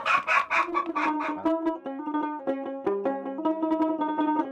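Tiger chickens on a poultry farm give a burst of close, loud clucking in the first second and a half. Steady layered tonal sounds then carry on to the end.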